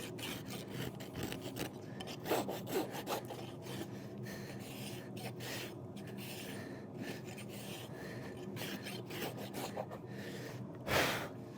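A farrier rasps back a horse's hoof wall while refitting a concave shoe, close, dry scraping strokes in an uneven rhythm, with a louder burst near the end and a horse snorting faintly.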